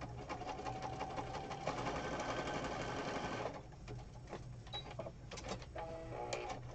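Junk journal pages stitched on a sewing machine: a steady, fast mechanical chatter running for a few seconds, then a lighter stretch of uneven clicking and tapping, faint overall.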